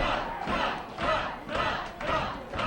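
A wrestling crowd at an NWA Wildside junior heavyweight title match roars and chants in rhythmic swells, loud and filling the arena, with voices rising and falling about every half second.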